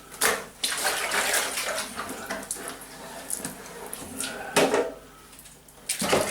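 Water sloshes and swirls around inside a container as an alcohol wash for distillation is rinsed, a close, uneven churning with splashy bursts near the start, middle and end.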